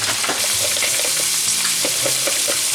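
Shrimp fry and brown in a hot pan beside a pot of grits, with a loud, steady sizzle and crackle running the whole time and small scraping knocks mixed in.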